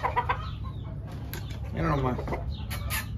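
A rooster at a Tijuana yard gives a few short clucks, close by, under a voice talking over it.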